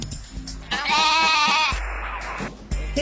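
A sheep bleats loudly and close during fast shearing on a farm, one drawn-out wavering cry with handling noises around it.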